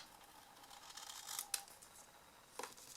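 Scissors snip through copper-coloured card during handmade box crafting, giving a few quiet, crisp cuts close by with short pauses between them.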